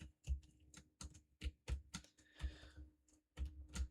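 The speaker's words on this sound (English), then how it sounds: "What does it sound like when I type?" Typing on a computer keyboard, a run of close, crisp key clicks in uneven bursts with short pauses, alone without speech.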